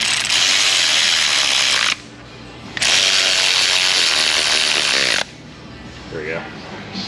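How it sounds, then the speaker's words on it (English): A ratchet wrench running down bolts on the water pump of a 1995 Jeep Wrangler 4.0, two long bursts of rapid loud clicking separated by a short pause, close up, with a voice speaking briefly near the end. "Let's go ahead and run these bolts down."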